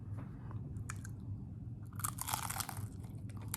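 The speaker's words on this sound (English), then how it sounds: "This is so good with that pickle, I can't stop eating it." Close, crunchy chewing of tacos topped with pickles, with scattered soft bites early on and a louder stretch of crisp crunching in the second half, no talking.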